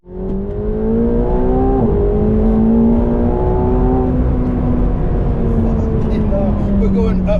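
A McLaren 720S twin-turbo V8 climbs uphill under hard acceleration, its close, loud engine note rising in pitch through two gear changes over a whirring background.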